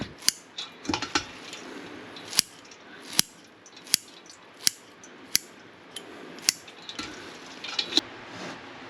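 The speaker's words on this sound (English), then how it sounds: "Before you cook your noodle, you want to cut down, make it smaller" Scissors snip glass noodles into shorter lengths before stir-frying, giving about ten sharp, close cuts at a steady, unhurried pace, with no talking.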